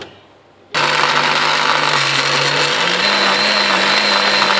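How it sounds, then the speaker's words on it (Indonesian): A blender starts abruptly and runs loud and steady, grinding toasted chili, spices and dried salted fish with a splash of water into a paste for a salty chili sauce, its motor pitch rising slightly partway through. "kemudian siap kita blender"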